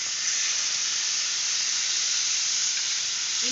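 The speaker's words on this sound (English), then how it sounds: "What we will do is that put up the marinated fillet" A marinated basa fillet sizzles in olive oil in a flat pan, a steady, close, even hiss that carries on without a break and with no talk over it.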